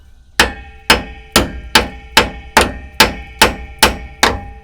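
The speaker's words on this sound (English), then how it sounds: "So I'm gonna hit it with a hammer." Ten sharp metallic hammer strikes ring out at an even pace, each blow clanging loudly on a metal bolt and decaying quickly.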